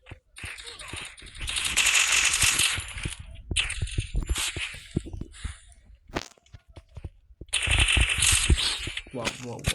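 Gunfire from a shooter video game crackles in bursts of rapid shots with rattling impacts, heard beneath someone talking excitedly throughout.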